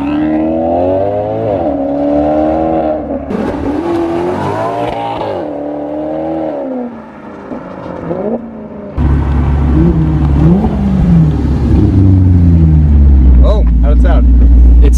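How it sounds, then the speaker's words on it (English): Maserati GranTurismo MC heard from outside as it drives by, its engine note loud and rising and falling with revs, with a deeper, heavier roar in the second half, while people talk over it. "I want to get you guys an outside clip just so you really understand how good this car sounds from the outside."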